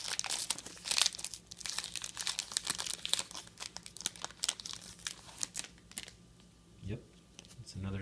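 A thin 2011 Benchwarmer trading card pack wrapper is torn and crinkled open up close in a series of sharp rustling bursts, followed by softer handling noises and a brief voice.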